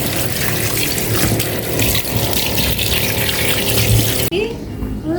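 Yellowfin tuna being washed with salt under running tap water, a loud, steady gush that pours continuously, then cuts off abruptly near the end.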